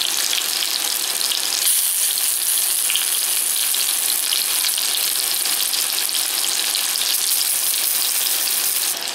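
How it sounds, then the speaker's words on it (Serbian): Potatoes frying in a pan, a steady dense hot-oil sizzle that stays loud and close throughout, with no talk. "Dok se krompirići prže"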